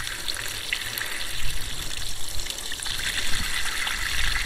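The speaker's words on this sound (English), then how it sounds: "That's the first fresh water rinse" Fresh rinse water drains out of a container of home-grown olives being cured in brine, a steady gushing and trickling flow with a few louder surges.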